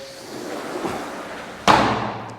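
A door slams shut in a villa, giving one sharp, loud thud near the end after a softer bump and quiet room noise.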